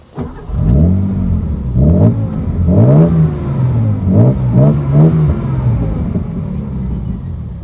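Classic Datsun 240Z sports car engine heard from the rear, revved in several sharp bursts that rise and fall over a rumbling idle, close and loud.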